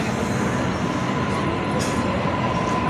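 A double-decker passenger train rolls along between Lidcombe Station and Circular Quay in Sydney, heard from its upper deck as a steady, loud, close rumble and rush of wheels on track, continuous throughout with no voices.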